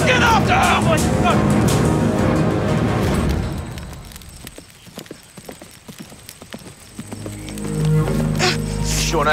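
Horses gallop off in a clattering rush of hooves during a frantic pursuit, loud at first amid shouting and a dense action score, then thinning to scattered hoof thuds before the music swells again.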